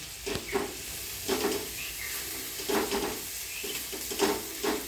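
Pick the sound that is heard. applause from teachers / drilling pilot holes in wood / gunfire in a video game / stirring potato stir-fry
stirring potato stir-fry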